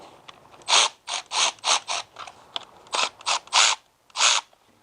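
Ratchet clicking in quick bursts while a fastener is loosened on the boost solenoid of a BMW N54 engine, as fitted to the E90 335i, E60 535i and E82 135i; about nine close, crisp bursts separated by short pauses.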